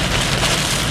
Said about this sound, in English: there's even a small hail falling